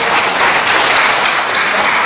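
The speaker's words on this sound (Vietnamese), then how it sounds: "Hãy vỗ tay cảm tạ đi bây giờ" Congregation applauding at a Vietnamese Protestant church sermon, a dense, steady wash of many hands clapping that fills the whole stretch at close, loud level with no voices on top.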